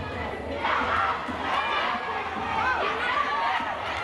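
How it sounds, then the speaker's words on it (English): A large crowd murmurs and calls out in a college gym during a girls high school volleyball match between North Quincy and Quincy, a steady mass of overlapping voices with scattered shouts at moderate distance. "Big crowd here tonight at Eastern Nazarene College."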